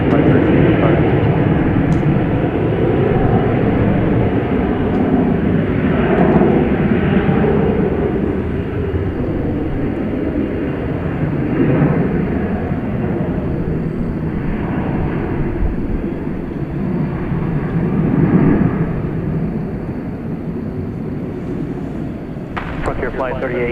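An Envoy jet airliner taking off from runway 18 left at DFW Airport, a loud sustained engine roar that swells and fades slowly, heard alongside air traffic control radio talk.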